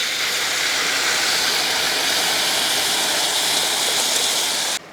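Cooked beef with a little gravy poured into a pot while making Kerala-style beef curry, a steady close wet pouring and sizzling rush lasting about five seconds before cutting off abruptly.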